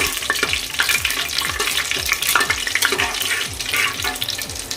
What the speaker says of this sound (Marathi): तमालपत्र काळी मिरी हिरवी वेलची दालचिनी आणि लवंग हे एक दोन मिनटं फक्त आपण परतूया